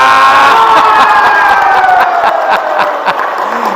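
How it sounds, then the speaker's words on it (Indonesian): An audience at a church service seminar cheers and applauds loudly, a dense wash of clapping and shouts that slowly thins out toward the end. "Tepuk tangan untuk amang perhalado. Tepuk tangan untuk amang pendeta."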